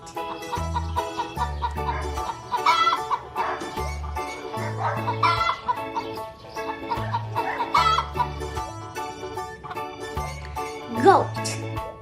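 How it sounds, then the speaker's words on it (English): A mother hen clucks repeatedly among her chicks, short clucks scattered through the stretch over light background music, with a sharper call near the end. "Mother hen takes her children to eat."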